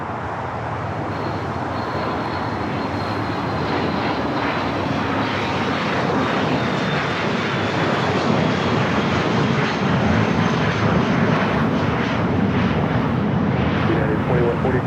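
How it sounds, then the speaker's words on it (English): Corporate jets take off on the south side of Los Angeles International Airport, a loud, continuous engine roar that swells gradually over several seconds, with faint talk beneath it. "More corporate jets taking off here on the south."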